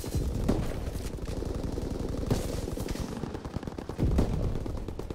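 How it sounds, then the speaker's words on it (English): Rapid bursts of machine-gun fire from a strafing World War II fighter plane in a first-person shooter, loud and continuous with heavier impacts punctuating the rattle. "Fighter pilot inbound, strafing the target."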